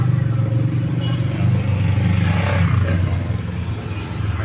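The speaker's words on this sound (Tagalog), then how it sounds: "So Yamaha YTX ang kanyang makina." A Yamaha YTX engine powering a motorcycle tricycle, a loud, steady close-up chugging drone with a rough mechanical clatter, holding constant for several seconds without speech.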